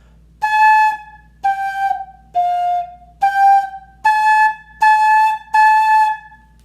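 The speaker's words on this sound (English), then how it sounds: "You can also use your index finger and make different sounds like this." Seven short breathy whistling tones from a flute head joint played with the index finger, each about half a second, with small pitch changes between them, clear and close with no talking.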